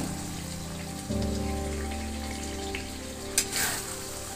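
Chicken liver (pota kaleji) sizzling and frying steadily in a pan, a close, continuous crackle with a brief louder spatter near the end; no talking.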